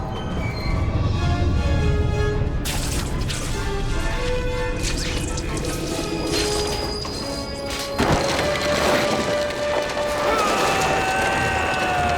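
A loud, chaotic rumble of runaway train noise from Spider-Man 2 with metallic crashes and screeching tones, shifting abruptly partway through, dense and continuous throughout.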